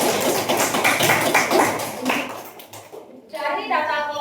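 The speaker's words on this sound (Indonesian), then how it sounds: "Tepuk tangan buat Mas Alfa" Classroom applause for a student, a burst of brisk hand clapping from a group that fades after a couple of seconds, followed by a teacher speaking.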